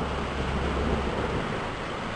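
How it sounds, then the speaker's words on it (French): Rumbling thunder from a storm about 2 km away rolls low and continuous through a heavy rainstorm, blending with the steady hiss of falling rain and wind. "Donc l'orage est toujours à 2 km quelque part"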